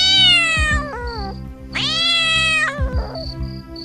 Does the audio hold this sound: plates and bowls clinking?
no